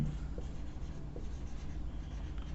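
Writing on a board during a Class 11 maths lesson on complex numbers, a soft steady scratching and rubbing of strokes close by, low and continuous without speech.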